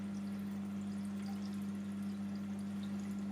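Water gurgles and sloshes continuously in an aquarium filter, a steady close wash of trickling sound over a low constant hum, with no voices.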